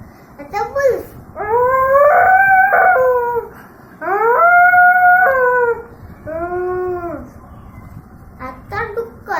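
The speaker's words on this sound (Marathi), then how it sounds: "आता बुल्फ," A wolf howls in several long, sustained, wavering calls separated by brief pauses, with a few short yips at the start and end, loud and close, used as a wolf sound in a children's animal-sounds activity.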